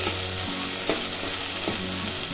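Cluster beans (gawar) fry on high heat in a pan, giving a steady close sizzle with brief stirring scrapes now and then and no voices.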